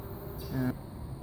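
Honeybees at a hive being removed from a mobile home give a brief, close buzz lasting well under a second against quiet background noise.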